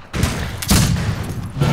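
Dense, loud video game gunfire from the game Fistful of Frags, heard as a continuous roar of overlapping shots and booms with a fresh burst near the end.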